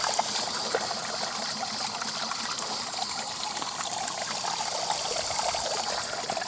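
Water trickling and streaming steadily through a pool filter system being charged with DE powder, a continuous close hiss with no pauses and no talking.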